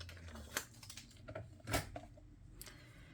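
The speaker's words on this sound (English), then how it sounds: "And then I will use my trimmer to make that cut." A paper trimmer slicing scrapbook paper, soft clicks and a few brief sliding, scraping strokes, quiet and close with no talking.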